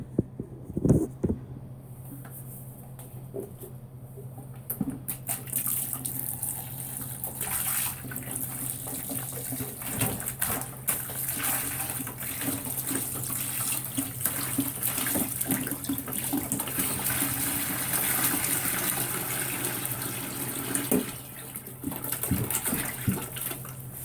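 Water poured and splashing into a foot-powered laundry bucket, a continuous rushing pour that starts after a few knocks and runs steadily to the end, close and fairly loud.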